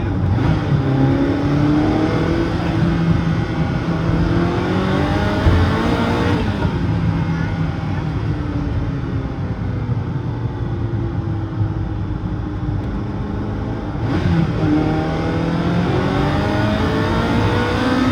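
A Ferrari F40 driven on roads in France, its engine loud and close, revving up through gears with repeated rising sweeps and brief drops at the shifts, steady roar throughout.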